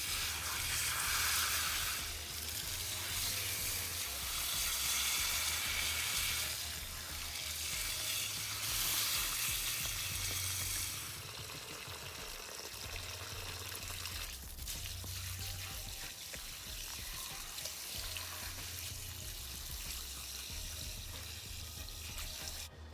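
Running water rinses soil from the dry root ball of a crabapple pre-bonsai during repotting, a steady broadband hiss and splash that continues throughout, easing slightly in the second half, with no talking.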